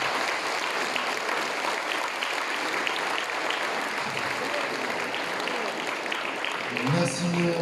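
A concert audience in Watten applauds a performer with loud, continuous clapping throughout, and a voice briefly speaks near the end.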